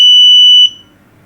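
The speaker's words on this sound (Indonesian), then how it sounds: "Jadi kalau dia ada gerakan harusnya alarmnya bunyi." Motion-sensor alarm buzzer sounding during a test of a student-built sensor circuit: a loud, steady, shrill electronic tone heard up close, holding for over half a second before cutting off abruptly into near silence.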